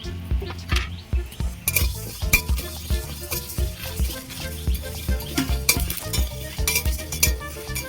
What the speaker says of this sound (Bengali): প্রথমে আমি মশলাগুলো ভেজে নেব জিরে মৌরি ধনে আর দুটো শুকনো লঙ্কা